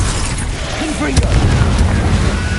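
A Confringo fire spell bursts in Hogwarts Legacy, a single deep boom with a short rumbling tail over steady game ambience, with a brief tonal chirp of the casting just before.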